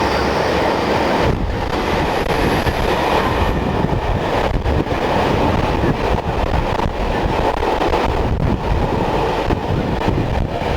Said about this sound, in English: Just move along here a bit for a freight train.